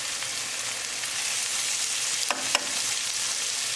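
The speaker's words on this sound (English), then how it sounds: "We're going to saute 3 minutes." Pre-cooked protein sautés in a pan with a steady, bright sizzle, and two quick utensil clicks land near the end.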